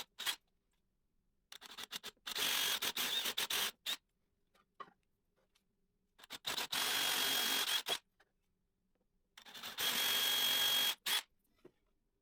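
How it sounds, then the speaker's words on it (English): A power drill whirs through a wooden plate in three separate bursts of a couple of seconds each, with quiet pauses and small handling clicks between them. "Now I have markings so I can also drill 4 holes in the top plate."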